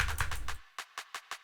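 Four quiet, crisp clap hits from the Diamonds drum sample pack sound in a steady, evenly spaced row after a brief burst of other sound. Each clap is short and dry with a snappy decay.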